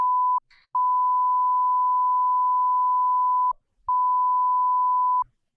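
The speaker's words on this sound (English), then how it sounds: "I'll probably have to beep that whole section out" Steady censor bleep tone covering speech in a tech podcast, sounding in three long sustained stretches split by brief gaps, loud and alone.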